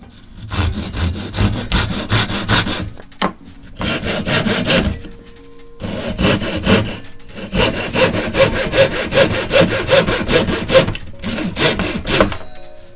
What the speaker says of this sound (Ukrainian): І ножівка якраз іде чітко по пропилах.